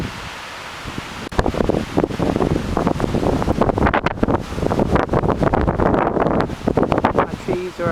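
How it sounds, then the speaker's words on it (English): Hurricane Ike's wind surging through a yard with 60-foot trees in Magnolia, Texas: loud, uneven gusts buffet the microphone and rush through foliage in repeated surges after a quieter start. "You hear those wind surges."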